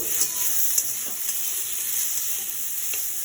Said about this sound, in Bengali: সয়াবিন অল্প থাকার কারণে আলুটা ভেজে নিচ্ছি, আলু অ্যাড করব।